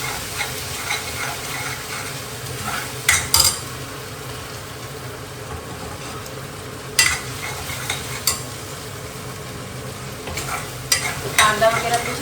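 Masala paste cooking slowly in oil and ghee in a pan with cumin, curry leaves and asafoetida, a steady soft sizzle broken by a few sharp scraping stirs of a spoon.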